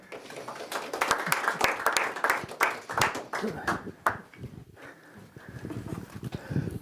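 A small audience claps for a retired U.S. Army officer about to give a talk, scattered uneven clapping that fades after a few seconds, then a voice speaks.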